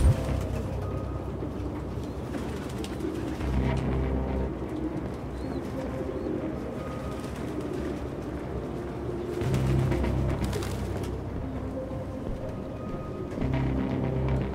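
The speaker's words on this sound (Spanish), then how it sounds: "Ningún humano viviría con esas putas palomas." Pigeons cooing in the video game Detroit: Become Human, a low murmuring that keeps going under a dim indoor ambience with occasional soft swells and no voices.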